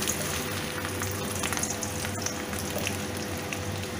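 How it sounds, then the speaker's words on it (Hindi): Jujube berries sizzle in hot oil with red chilli, a steady dense frying hiss that stays even throughout with light bubbling and a brief stir or clink near the middle. "डालने के बाद इसको मैं हल्की सी फ्राई कर लूंगी।"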